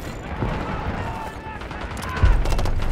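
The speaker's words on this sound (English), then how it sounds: "there's a lot of gunfire over here. We got gunfire ahead." Gunfire rattles in Call of Duty: Black Ops 6 desert combat, bursts of distant automatic shots and a louder nearby volley near the end, mixed with game voices.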